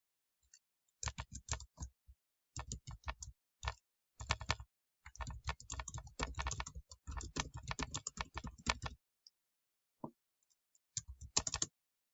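Fingers tap on a computer keyboard in quick, close clicking bursts with brief pauses between phrases, crisp and near with no talking.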